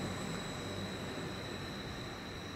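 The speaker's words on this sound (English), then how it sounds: "where that train's passing over now" A train crosses a railway bridge on a single-track line near Cromer, a steady distant rumble with a faint high tonal whine, no voices.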